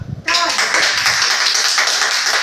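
A studio audience on a TV quiz show breaks into clapping for a correct answer, starting abruptly after a brief voice and continuing as a steady, close burst of applause.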